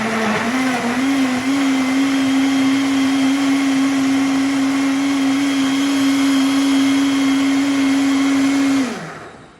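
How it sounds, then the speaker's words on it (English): Kitchen blender puréeing tomatoes for pizza sauce, a loud, steady motor whine held for about nine seconds before winding down and stopping. "we will have one more round after this in the blender"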